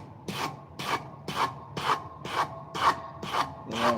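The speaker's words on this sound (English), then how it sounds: "I'm hitting roughly the same sharpening angle" A knife is worked on a heavy grit sharpening stone in eight even, rhythmic rasping strokes, close and steady, with no voices.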